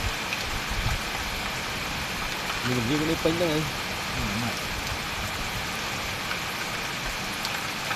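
Rain falls steadily, a dense hiss of drops on surfaces throughout. A person speaks briefly over it.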